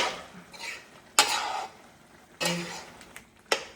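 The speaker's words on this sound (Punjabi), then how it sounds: "ਇਹਨੂੰ ਕਰ ਲਓ ਵਧੀਆ ਤਰੀਕੇ ਨਾਲ ਮਿਕਸ ਆਰਾਮ ਨਾਲ" Chicken curry is stirred and mixed in a pot with ginger and garlic, giving sharp, scattered scrapes and clinks of a utensil against the pot, several distinct knocks under a soft sizzle, with no voices.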